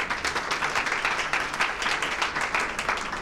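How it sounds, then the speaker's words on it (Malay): An audience at a 2006 Elken Guasa therapy seminar breaks into applause, a continuous, even crowd clapping at moderate volume with no voices over it. "Tepukan kepada Elvin."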